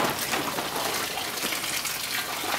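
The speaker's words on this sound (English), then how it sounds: "So I have it gushing out. So that's a serious flush that it's doing now." Water gushes out steadily and loudly while a Chevrolet Malibu radiator is being flushed, a continuous close hiss and splash with no talk.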